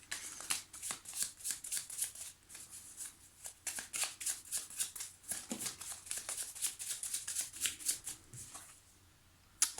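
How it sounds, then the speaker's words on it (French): Lenormand and oracle cards being shuffled by hand in a quiet room, a steady run of crisp riffling flutters and soft slaps, close and continuous, ending with a brief pause. "je vais me concentrer un instant sur votre demande pendant que je mélange les cartes"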